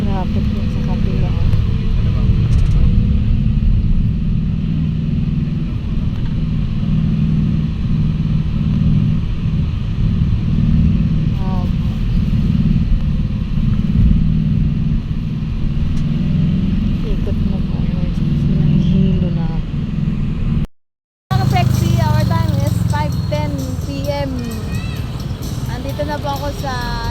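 Manila road traffic makes a constant low rumble of engines throughout, under frequent talking, with a brief dropout near the end.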